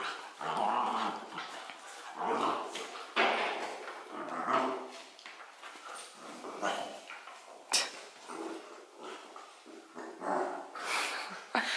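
Puppies growl, yip and whimper in short bursts as they play, close by and fairly quiet, with no talking.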